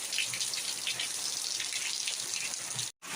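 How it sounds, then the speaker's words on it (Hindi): Rain falls steadily onto a courtyard and steps, a continuous close hiss of running and splashing water that cuts out abruptly near the end. "पानी गिरत है"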